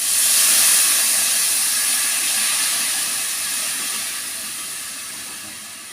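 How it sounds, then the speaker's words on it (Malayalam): Water poured into a hot curry pan bursts into a loud steaming hiss that slowly fades over several seconds, with no voices over it. "വെള്ളം ഒഴിച്ച് കൊടുക്കാം"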